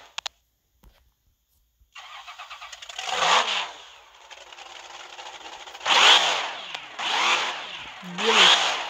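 A V8 monster truck engine of 11.5 litres in a racing video game, with three gears, starts and then revs hard in repeated loud surges that climb and fall back, close and clear with no talking.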